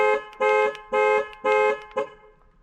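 A 2013 Dodge Dart's key fob panic alarm blares in repeated loud honks, four long pulses followed by a shorter one before it cuts off, close by.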